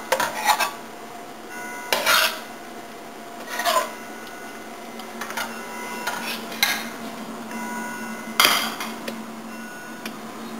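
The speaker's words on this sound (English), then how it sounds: "You're going to stir until the cream cheese melts into your sauce." A utensil stirs a package of cream cheese into a sauce in a pan over low heat. Intermittent scraping and clinking strokes against the metal come at uneven intervals, fairly quiet and with no talking.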